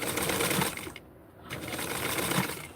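A sewing machine runs close and loud, stitching small doll pants in a continuous rattling whir, pausing briefly for about half a second before starting again, with no talking.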